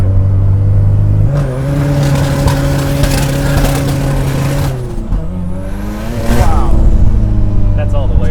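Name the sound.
700 hp Mazda RX7 engine revving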